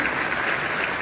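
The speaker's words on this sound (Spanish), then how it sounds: "Jorge Alfredo, un aplauso para Jorge Alfredo." A brief burst of dense applause from a crowd, steady clapping filling the whole moment.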